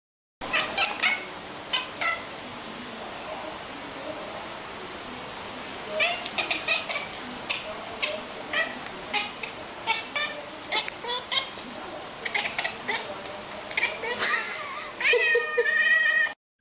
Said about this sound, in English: Oh my god! Losing its mind! That's a Bengal cat, I guess.